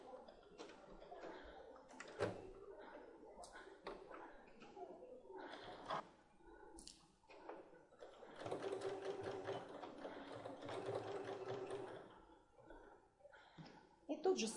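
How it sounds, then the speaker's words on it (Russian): A sewing machine stitches flared skirt-shorts pieces one after another in a continuous seam, its mechanism running in short bursts and then a longer steady whir, close and clear with a voice talking over parts of it. "И будем их стачивать друг за другом, не прерывая строчки."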